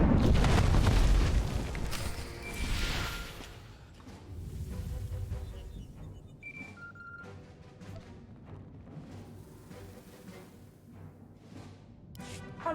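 A big explosion in Star Wars: The Old Republic on Correlia opens with a loud deep boom and a rumbling blast that slowly decays into lingering debris and fading ambience, with no talk.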